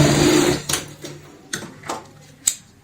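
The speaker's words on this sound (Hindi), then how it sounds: "और यहाँ भी इतना ही गैप रखते हुए हम सिलाई लगाएंगे" A sewing machine runs briefly while sewing the base of a shopping bag made from an old shirt, then falls quiet into a series of sharp, close handling clicks and taps at irregular intervals.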